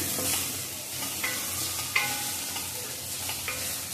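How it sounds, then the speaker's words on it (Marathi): Ginger and garlic sauté in a pan with a steady, close sizzle, broken by a few soft scrapes of stirring. "छान परतून घ्यायचं, म्हणजे आलं आणि लसणाचं"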